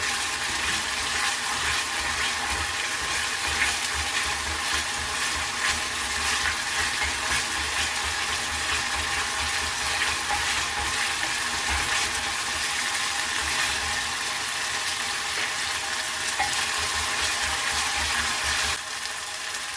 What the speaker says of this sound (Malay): semasa menumis ini, kita teruskan masukkan asam keping